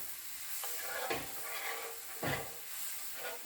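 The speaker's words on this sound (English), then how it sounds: "We're going to deglaze that with the wine." A pan of browned lamb deglazed with Cabernet wine gives a steady close sizzle and hiss, with a few scraping stirs cutting through, alone without talk.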